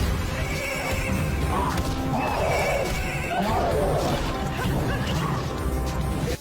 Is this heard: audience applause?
no